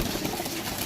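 Pigeons offered for sale coo softly in a brief, close burst of low, throaty murmuring, alone without talk.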